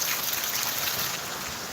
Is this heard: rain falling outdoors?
yes